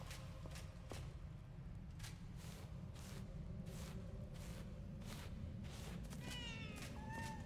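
Cat meowing in the video game Enshrouded, a few short meows over a steady game backdrop of repeated whooshing thuds.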